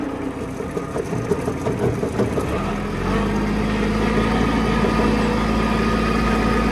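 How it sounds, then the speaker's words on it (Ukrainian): A Kubota GT-5 mini tractor engine runs steadily, its pitch shifting midway as it picks up and keeps driving with a constant mechanical drone. "Забираємо ногу, тракторець їде."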